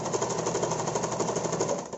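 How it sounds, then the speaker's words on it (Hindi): A sewing machine stitches a cloth face mask with a fast, steady, buzzing mechanical rattle, close and continuous, easing off at the very end. "हमारा ये सिलाई हो रहा है"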